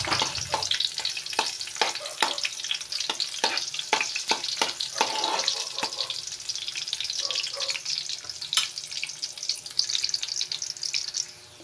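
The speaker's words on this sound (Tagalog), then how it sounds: "mantika sa ating munting kawali. Lalagyan na natin ng sibuyas. Yan. Lagay na rin natin ng bawang." Chopped onion and garlic hit hot oil in a small pan, giving a steady close sizzle broken by repeated sharp clinks and scrapes of a stirring utensil, with no talking.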